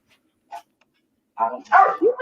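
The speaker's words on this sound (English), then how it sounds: "Those are my dogs." Dogs barking at night, a short single yip followed by a burst of several loud, close barks in quick succession near the end, after a quiet pause.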